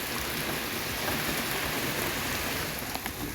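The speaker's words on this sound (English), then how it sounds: "OV, you're suddenly getting a bunch of rain dumped on you" Heavy rain pours down in a dense, steady roar of drops hitting surfaces, with no talk over it.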